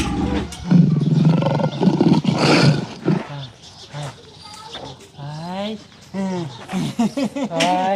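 A black leopard lets out a loud, rough roar, and agitated voices talk and shout over the following seconds.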